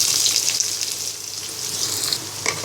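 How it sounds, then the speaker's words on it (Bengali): Chopped onions frying in hot oil in a wok for a Bengali bottle gourd dish: a bright, steady hiss of sizzling, close and even, with faint stirring near the end and no talking. "এবার পেঁয়াজটাকে ব্রাউন কালার করে ভেজে নিব"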